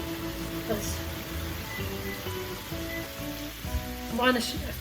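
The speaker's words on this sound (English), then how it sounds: "I'm going to fry that up, cook her on up" A pound of sausage sizzles and crackles in a frying pan, a steady soft hiss with scattered pops, close but fairly quiet, while a person talks over it and utensils clink now and then.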